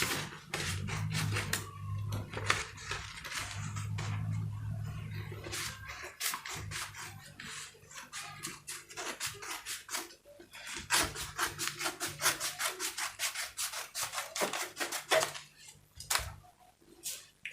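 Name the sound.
cutting out a fabric sewing pattern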